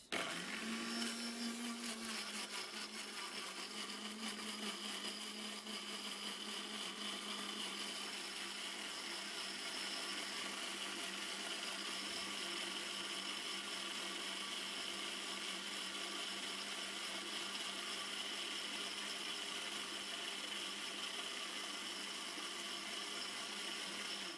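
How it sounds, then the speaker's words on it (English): A blender whirs loudly and continuously for a long stretch, a steady high motor drone with a slight pitch dip near the start. "and then I'm going to blend."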